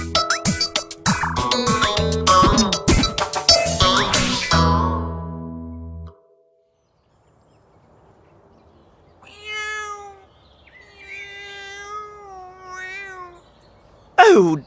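A cat stuck in a tree meows several times in short, clear, rising-and-falling calls after a burst of lively instrumental music ends and a brief quiet pause follows.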